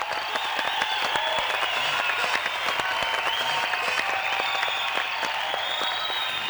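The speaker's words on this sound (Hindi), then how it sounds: "तालियां" Steady crowd applause carries on throughout at a live comedy event, with dense overlapping clapping at an even level from start to finish.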